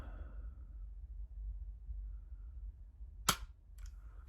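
A single sharp dry-fire trigger click from a pistol in a quiet room, followed by a fainter mechanical click a moment later.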